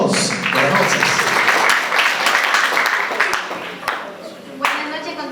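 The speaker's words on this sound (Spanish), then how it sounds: "Vengan los aplausos" Guests at a baptism celebration for two girls break into a burst of applause, dense clapping from a crowd indoors that tapers off after a few seconds, with voices and cheers mixed in.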